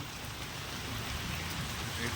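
Steady rain falls in a continuous, dense hiss across the short stretch, loud and close with no break, and no one speaks over it.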